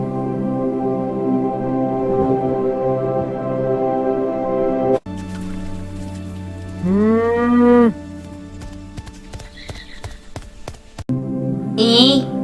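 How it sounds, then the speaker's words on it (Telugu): A cow lets out a long, loud, low moo close by, followed by tapping sounds and a brief higher animal call, with a voice speaking. "ఆవు"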